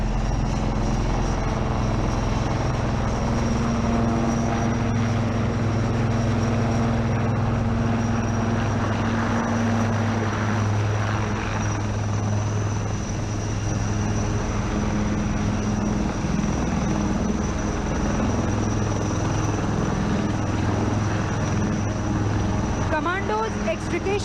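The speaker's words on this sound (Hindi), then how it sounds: "स्पेशल फोर्सेस को एक्सट्रिकेट करने के लिए हेलीकॉप्टर आ चुका है" A Cheetah military helicopter arrives during a special forces extraction demonstration at Defence India Expo 2020, its rotor and engine a steady, loud, continuous roar throughout, close by and unbroken.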